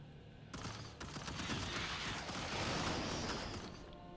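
Machine gun fire in a Starship Troopers battle game, a dense sustained burst of rapid gunfire mixed with battle noise, loud and continuous for several seconds.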